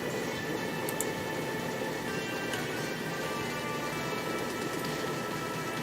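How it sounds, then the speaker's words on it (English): Steady rain patters continuously, a dense even hiss with faint drips, no voices. "It's raining"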